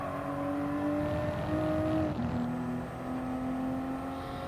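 A Toyota race car in a Gazoo Cup race at Laguna Seca in Gran Turismo Sport holds a steady engine drone, dipping briefly as the pitch drops mid-clip and then climbing again, loud and continuous with no talk.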